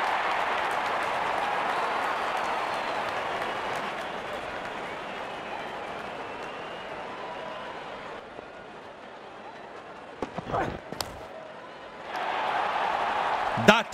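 Crowd cheering and applauding at an ILT20 T20 cricket semi-final, a broad sustained roar that eases off, then swells again near the end, with commentary over it.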